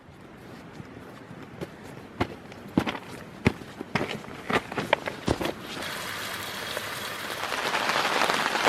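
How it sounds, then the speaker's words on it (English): Rain pattering on a tent in the alps: scattered sharp drops hit the fabric at first, then a denser, steady hiss of rainfall builds toward the end. "the rain come in, and she's pretty wet out there now"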